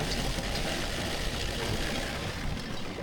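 A car engine runs steadily while driving in extreme cold, about 30 below zero, a continuous dense rumble and road noise heard from inside the car, loud and unbroken with no talk.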